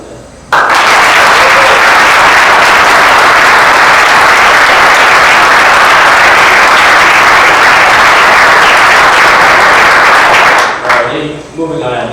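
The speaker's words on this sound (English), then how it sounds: "I would appreciate a round of applause for them" A hall of fame induction audience bursts into loud, sustained applause that holds steady for about ten seconds, then cuts off abruptly with faint room noise after.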